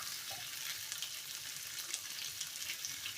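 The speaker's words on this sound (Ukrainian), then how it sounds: "Підсмажую сало" Pork fat sizzles and crackles steadily in a hot pan, a dense close-up frying hiss with small pops scattered throughout and no voices.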